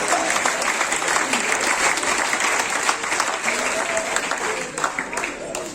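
Loud, lively audience applause at a comedy gala in Cameroon, a thick continuous burst of clapping lasting several seconds with crowd noise and some voices mixed in.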